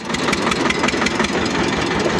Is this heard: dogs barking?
no